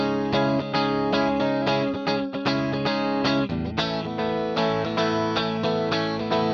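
Electric guitar played through a Boss ME-90 multi-effects unit with the delay turned off, producing a continuous stream of bright, distorted, chorus-tinged notes and chords at a steady, loud level with no talking.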